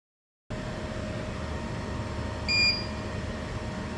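A WeCreat Lumos portable laser engraving machine gives a short electronic finished beep once over a steady machine hum, clear but not loud, after a moment of silence.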